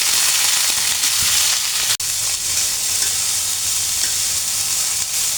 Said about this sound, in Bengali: ঘিতে যদি আমি এই সবজিটা একটু ভেজে নেই তাহলে কাঁচা ভাবটা চলে যাবে